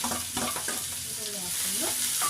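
Green chillies and onion frying in a pan for a village-style ridge gourd dish, a steady close sizzle with occasional scraping strokes of a stirring spoon.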